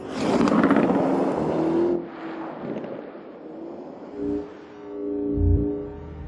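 A Lamborghini Urus SUV in The Grand Tour Game roars past at speed, a loud engine and wind rush for about two seconds that fades into quieter drive noise with a few later surges.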